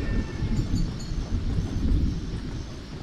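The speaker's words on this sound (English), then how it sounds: "If you hear a train in the background in the distance, there's actually a train passing by in the world." Low, distant rumble of a train passing in the video game Thick as Thieves, a continuous muffled roar with no talk over it.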